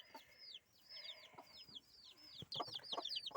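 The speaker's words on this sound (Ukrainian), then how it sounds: "Подивіться, квочка і п'ять ціплят." A mother hen clucks softly on a farm while her five chicks peep in rapid, high, repeated chirps close by, the chirping growing busier toward the end.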